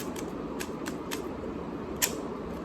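A Rubik's cube being turned gives a few sharp, scratchy clicks spaced irregularly over a steady background hiss, close and fairly quiet, with no talking.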